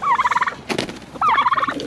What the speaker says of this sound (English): I love that noise the turkeys make.